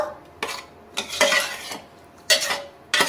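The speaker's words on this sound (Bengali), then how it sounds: "মাখনটা দিয়ে আমি আরেকবার নাড়িয়ে দেবো" A spoon stirs spinach three-lentil dal with butter in a pot, giving several distinct scraping, clinking strokes against the metal with quiet gaps between them, close and without speech.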